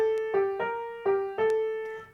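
A short melodic phrase from bar 15 of a piece, played as a beginner tutorial example: several clean sustained tones with rich harmonics, struck in an uneven rhythm, clear and alone without any voice.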